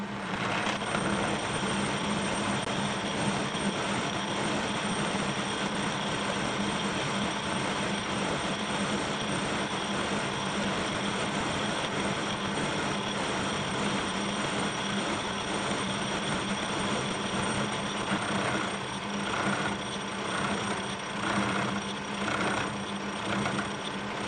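A Kearney & Trecker overarm milling machine runs at 60 RPM with the table feed engaged, a steady loud mechanical drone with grinding and faint squealing overtones as the cutter takes its first chips, continuous and without talk.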